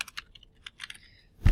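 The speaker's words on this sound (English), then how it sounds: "I'm just going to start typing sunset, to be on the page" Quick, light clicking of keys on a computer keyboard as someone types, irregular bursts of close taps followed by a dull thump at the end, with no voices.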